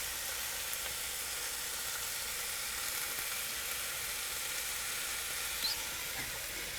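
Swiss chard dropped into a pan of sizzling zucchini and pepper for a frittata, giving a steady, fairly loud frying hiss that runs unbroken throughout with no voices.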